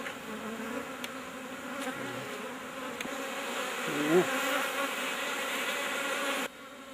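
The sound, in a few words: honey bees buzzing at beekeeping site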